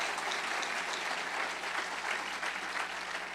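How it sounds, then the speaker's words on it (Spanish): Church congregation applauding, steady sustained clapping from many hands filling the room, continuous and fairly loud with no distinct voices. "Give a round of applause to the Lord."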